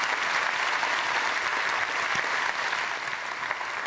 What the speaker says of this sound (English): Big applause, please, to Rafid Ahmad.